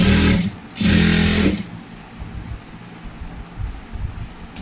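A sewing machine stitches a Chinese-collar purdah garment in two loud, close bursts, the second slightly longer, then stops, leaving a quiet room.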